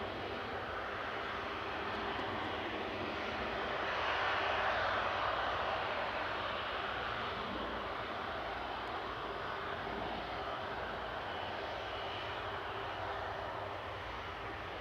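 Virgin airliner departing Manchester Airport, a steady distant jet engine roar that swells slightly mid-way and holds as a broad continuous rumble, heard alone.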